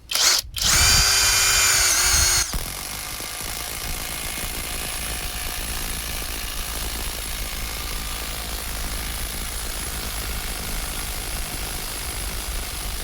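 LEADER impact wrench whirring close by, a short loud burst of high-pitched motor whine that cuts off and gives way to a steady lower drone, all without talk.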